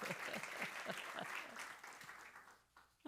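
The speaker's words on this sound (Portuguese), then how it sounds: "Quem entendeu esta palavra, dê um aplauso forte para o Senhor Jesus." A church congregation claps for the Lord Jesus, a sustained faint wash of applause that thins out toward the end, with a low voice speaking underneath.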